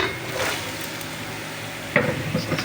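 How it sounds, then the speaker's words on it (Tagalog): Onions and chili for Bicol Express sauté in a pan, giving a close, steady sizzle with a few stirring scrapes and a brighter burst partway through, alone with no voices. "Tapos lalagay na po natin itong ating sibuyas tsaka sili."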